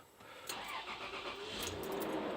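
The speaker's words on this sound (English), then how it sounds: "We're gonna start her up and see if that check engine light goes off." A 1996 Toyota 4Runner third-gen engine cranks briefly and catches, then settles into a steady running hum, close and moderately loud.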